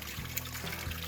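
Natural spring water trickles and pours out of a mountainside along a hiking trail, a close, steady splashing flow with small gurgling bursts and no voices.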